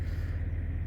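Steady low engine rumble of trucks idling at Spire View, a roadside truck stop rest area in New South Wales, a continuous near drone with no other distinct sounds.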